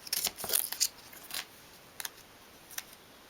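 Scissors trimming masking tape for a 1/12th scale dolls' house sink unit, a cluster of quick close snips followed by two faint isolated clicks, quiet with no talking.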